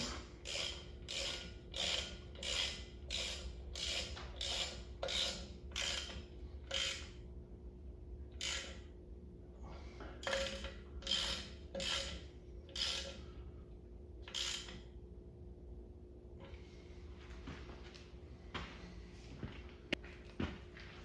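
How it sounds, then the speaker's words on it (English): A ratchet wrench tightens the bolts holding a drum brake wheel cylinder, quick runs of sharp clicking close by, pausing between bursts, then slower single clicks toward the end. "we'll tighten the bolts that are on the back side here, holding the wheel cylinder in"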